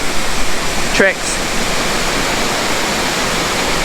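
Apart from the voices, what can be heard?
Tad Lo waterfall rushing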